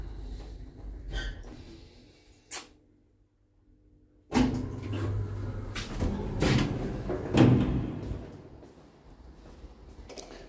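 Elevator doors in a Turkish apartment building, a large eight-person lift with triple doors, slide and thump with a few mechanical clunks and rumbles after a quiet pause.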